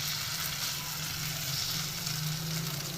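Fish frying in a pan with only a little oil gives a steady, close crackling sizzle that continues evenly throughout, with no talking.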